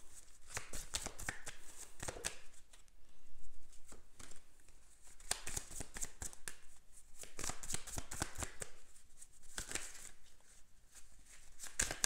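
Tarot cards are shuffled by hand in rapid riffling bursts, crisp and close, with short pauses between runs of dense paper flutter.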